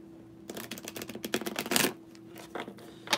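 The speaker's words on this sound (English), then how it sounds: "This is how I shuffle, and it ain't very well." A deck of playing cards is shuffled up close, a quick run of soft riffling flutters and taps that builds to a dense burst in the middle, then a few looser slaps.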